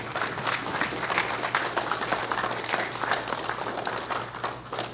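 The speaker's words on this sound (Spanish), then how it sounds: "les voy a pedir al público que les den un caluroso aplauso" An audience applauds the panelists at the close of an academic panel discussion, a moderate, steady patter of many hands with a faint low hum beneath, continuing evenly throughout.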